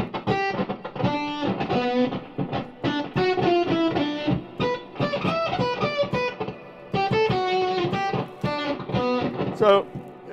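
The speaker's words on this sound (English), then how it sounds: "it's kind of a sort of Nintendo type sound with reverb on it." Choppy, bleepy notes from an effects pedal sound like old video game music, played in quick bursts with a reverberant tail.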